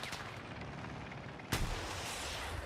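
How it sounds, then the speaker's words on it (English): An anti-aircraft gun fires in the video game Battlefield 6, one sharp, loud blast cutting through a steady roar of distant battle noise, followed by a lingering rumble. "You're still in this anti-aircraft gun, huh?"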